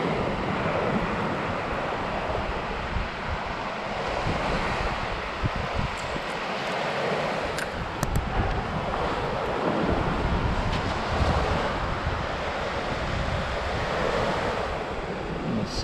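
Ocean surf rolls and breaks continuously on Pensacola Beach, Florida, a steady roar of waves mixed with wind buffeting the microphone.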